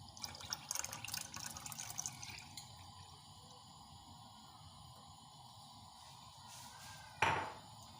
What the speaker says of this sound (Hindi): 1 कप दूध जो है वो इस देचकी में, और दूसरा कप ये मैं डाल रही हूँ